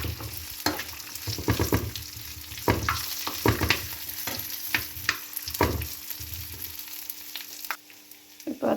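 Steady scraping stirring with a continuous sizzle from ingredients frying in ghee for a Kerala-style cherupayar parippu payasam, close and fairly loud with repeated spoon strokes and no talk.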